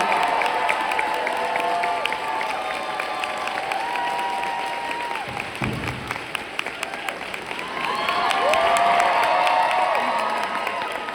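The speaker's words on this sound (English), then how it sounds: "One more time, guys, a huge round of applause." Comic convention panel crowd applauding and cheering, sustained clapping with whoops and shouts from a large audience, swelling again toward the end.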